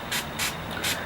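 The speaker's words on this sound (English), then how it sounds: "I think we're going to spray a little bit more." Three quick hissing bursts from a water spray bottle misting a makeup sponge, evenly spaced, close and fairly loud.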